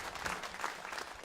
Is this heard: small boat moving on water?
no